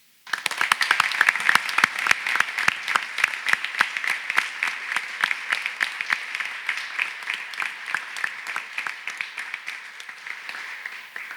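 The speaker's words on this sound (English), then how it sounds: "how about a huge round of applause for all the coaches?" An audience at a college swimming and diving championship gives a sustained round of applause for the coaches, with dense, steady clapping that carries on evenly for about ten seconds.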